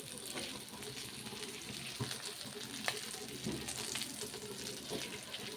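Pomfret fish pieces frying in an iron pan, a close, loud and constant sizzle with a few light pops and taps, alone with no voices.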